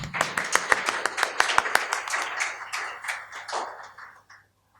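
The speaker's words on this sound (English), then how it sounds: "Shall we welcome him with an applause?" Audience at a philosophy lecture applauds to welcome a speaker. Sharp, distinct claps that thin out and fade to silence near the end, with a faint low hum beneath.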